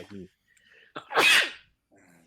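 A single loud, close sneeze bursts out after a short inhale, with brief talk before and after it in a casual podcast setting.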